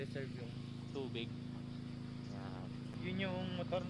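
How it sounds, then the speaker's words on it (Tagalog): A motor pump that stores water for a campsite's restroom supply hums steadily in the background, with people talking over it throughout. "Yun yung motor na ginagamit nila para mag-imbak ng tubig para may supply sa"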